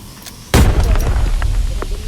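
A grenade goes off in the Arena Breakout shooter game as one sudden, loud, close blast, followed by a long rumbling tail with faint scattered pops.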